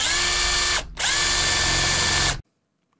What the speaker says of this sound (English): I drilled and tapped a few holes in a steel plate before tackling the mast.